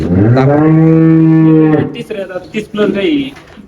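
A cow gives a long, loud, drawn-out moo close by, followed by a few shorter grunting sounds.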